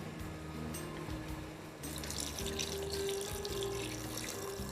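Water runs steadily from a tap into a kitchen sink or vessel, a continuous close gushing that grows a little stronger partway through, with no talking.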